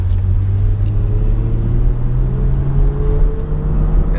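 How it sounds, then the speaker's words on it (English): A tuned Stage 2+ BMW with a loud exhaust drives along, its deep droning rumble steady and close, with the pitch rising slightly as it pulls. "the car sounds way better though with the new mic"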